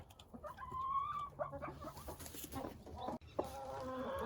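A broody hen clucks steadily close by while her small chicks add high, thin peeps around her, with no one talking.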